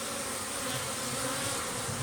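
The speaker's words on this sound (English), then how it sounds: "Now this one bee over here is acting very much like a security bee, going around and checking everybody." Honeybees buzzing around a hive entrance in a possible robbing situation, a dense continuous drone of many wings, steady and close throughout.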